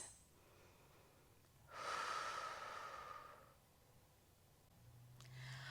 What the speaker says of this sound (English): And take a couple of deep breaths.